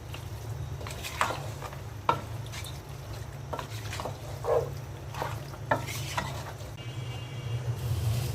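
Beef head meat is mixed with spices in a pan, producing a constant frying sizzle. Irregular scraping stir strokes cut through at intervals, close and moderately loud.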